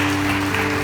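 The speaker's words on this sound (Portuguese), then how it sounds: "Vamos aplaudir a vida do Júnior pela" Church congregation applauding during a Portuguese-language worship service, a dense wash of clapping with a steady tonal hum underneath, short and fairly loud.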